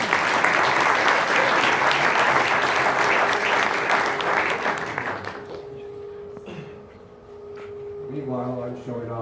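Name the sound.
audience applause at a forum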